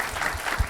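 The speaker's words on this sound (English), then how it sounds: "how about a round of applause for our generous sponsors?" Brief burst of clapping from an audience, a soft patter of many hands at moderate volume.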